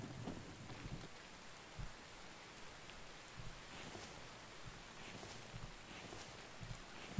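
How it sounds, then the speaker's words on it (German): Rain in a survival video game, a steady soft hiss of falling rain with occasional low thumps and brief louder patters, fairly quiet and continuous throughout. "Oh, es regnet."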